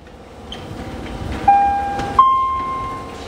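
An Osaka Metro Tanimachi Line train rolls into Tanimachi 4-chome station with a steady rumble, and two sharp tonal chimes ring out partway through, the second slightly higher.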